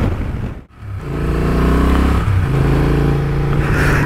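A 2023 Honda Transalp XL750 motorcycle pulls onto the highway, its engine revving up loudly through the gears with a steady, rising drone after a brief dip, heard close with no voices.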